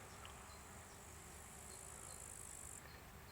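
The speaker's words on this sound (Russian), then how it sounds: "Вот сколько пчел здесь. Конечно, липа гудит вся." Bees and other insects hum steadily around a flowering linden tree outdoors, a faint, continuous buzzing drone with a high, thin insect whine over it and no speech.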